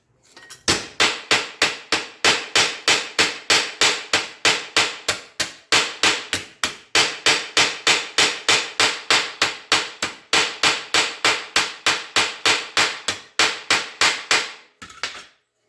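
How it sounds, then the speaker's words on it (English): A ball peen hammer strikes sheet metal laid on a workbench, stretching the inside corners of a box. Dozens of loud, sharp, close metallic blows fall in a fast, steady rhythm with only brief pauses and no talk. "Hammering it right onto the bench with the ball peen. I'm actually stretching the metal."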